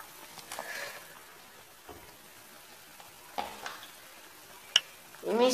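Spoon stirring a melted candle wax mixture for homemade skateboard wax, soft scraping and light clinks scattered across a quiet background, with a louder scrape near the end.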